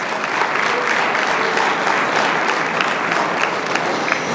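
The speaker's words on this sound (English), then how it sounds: "give a round of applause" Sustained, dense applause from a large gala audience at the DuSable Heritage Association's 25th anniversary, steady and full throughout with no break.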